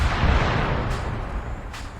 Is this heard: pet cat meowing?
no